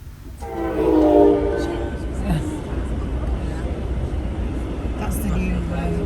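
A Brightline passenger train blows its horn at a level crossing near Orlando, a loud sustained horn blast early on fading into the rumble of the passing train, with people talking over it.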